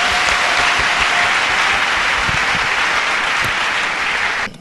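A church congregation breaks into loud, sustained applause acclaiming the Lord, dense steady clapping filling the room close up before cutting off abruptly at the end, with no speech over it.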